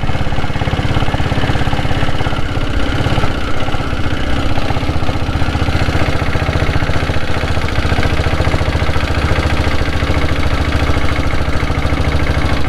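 A Royal Enfield Diesel Bullet motorcycle engine runs steadily throughout, a loud, close, low rhythmic diesel thump with constant chugging pulses and no talking.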